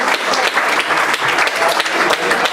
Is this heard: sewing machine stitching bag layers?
no